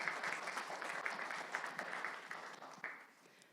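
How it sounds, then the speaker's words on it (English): Audience applause at a talk on Rabindranath Tagore and the environment, a dense crowd of clapping hands, fairly steady then thinning and tapering off toward the end. "please offer applause"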